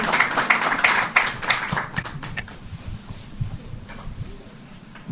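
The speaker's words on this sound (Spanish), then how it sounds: "Lo recibimos con un fuerte aplauso al arquitecto Parcival Castro Pita" Steady clapping from a lecture audience welcoming an architect to the podium, a dense patter of many hands that fades gradually over about five seconds.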